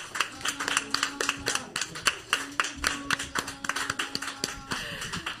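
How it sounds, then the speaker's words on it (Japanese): An audience claps in a quick, steady rhythm to welcome Akira Kimura, who brings his euphonium up to play, with faint tonal sounds underneath. "拍手でお迎えください"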